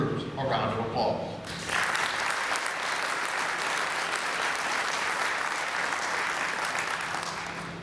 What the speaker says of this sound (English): Please give these individuals and groups a round of applause.